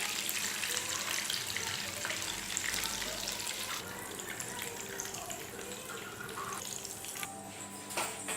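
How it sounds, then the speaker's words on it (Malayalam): Chicken pieces for pickle deep frying in a pan of hot oil, a steady bubbling sizzle with crackling bursts that holds throughout at moderate level, no talking. "ബാക്കിയുള്ള ചിക്കനെ നമുക്ക് 2-3 സെക്ഷനായിട്ട് വറുത്തെടുക്കണം."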